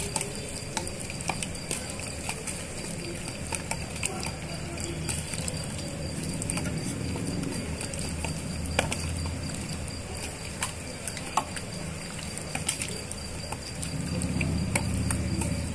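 Marinated chicken for street-style chicken 65 is mixed with two tablespoons of corn flour, giving a continuous close-up stirring and squelching with irregular clicks and taps from the utensil against the bowl, and no talking.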